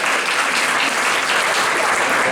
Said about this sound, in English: Big round of applause for Ben.